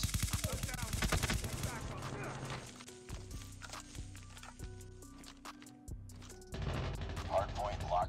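Gunfire in COD Mobile during a hardpoint match, rapid bursts of automatic shots at the start and end, with sparser single shots in between, close and sharp.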